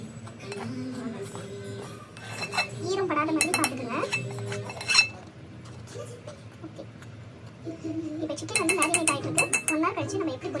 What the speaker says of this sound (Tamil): இப்போ இதை வந்து நம்ம நல்லா மிக்ஸ் பண்ணிக்கலாம்.